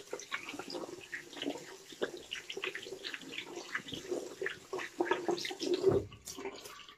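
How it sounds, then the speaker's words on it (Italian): Hands are rinsed under a running tap after a straight-razor shave, with a soft irregular splashing and trickling of water close by and no talking. "Adesso mi sciacquo un attimo le mani"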